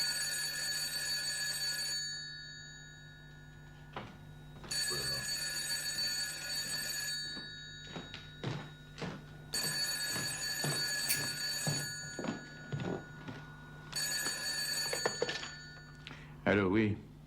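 Telephone ringing in a French horror game, a repeating electronic ring in bursts separated by short pauses, loud and close, with voices talking between and over the rings.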